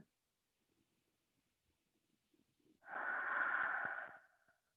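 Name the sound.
slow deep breathing during yoga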